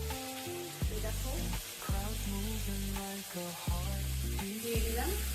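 Hilsa fish pieces frying in mustard paste in a pan give a steady, close sizzle, mostly buried under loud background music with sustained tones and gliding notes.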